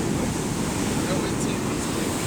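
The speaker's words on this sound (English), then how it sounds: "the waves crashing, that's like 10, 15 feet" Surf roars as ocean waves of about ten to fifteen feet crash onto a sloped sand beach, a continuous loud rumbling wash with wind buffeting the microphone.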